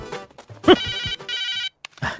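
A telephone rings with an electronic ringtone in a comedic Telugu film scene. Bursts of tone stand out against sparse, clipped voices and background sounds, then a short gap follows.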